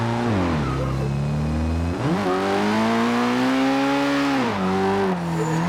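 A Nissan S15 engine in Forza Horizon 2 revs hard and steadily while drifting, its pitch dipping and rising through throttle lifts, with faint tyre scrubbing beneath the loud, continuous engine note.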